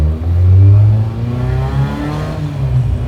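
A custom widebody VW truck's engine revs loudly and accelerates, its pitch climbing and then settling into a steady drone.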